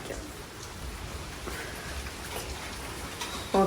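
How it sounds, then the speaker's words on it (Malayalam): Rain falling steadily outside a Kerala home, a soft continuous patter of drops on surfaces heard alone at moderate distance, with a brief louder knock at the very end. "വെളിയിലാകുമ്പോൾ നല്ല മഴ ഉണ്ട്"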